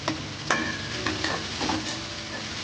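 Tomatoes and onion fry steadily in a pan, a dense close sizzle broken by several scraping stirs and light clinks of a spoon against the pan, with no voices.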